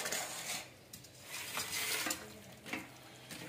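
Chicken pieces are stirred and tossed with oil, salt, chili powder and turmeric in a pan, giving soft scraping swishes in bursts with a light sizzle, close and fairly quiet.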